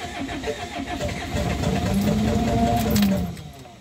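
Camping car engine idling then revving up, a steady rumble that climbs in pitch and loudness midway before easing back, close by with no talk.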